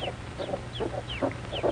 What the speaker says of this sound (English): And now the mother and her chicks come off the nest to eat.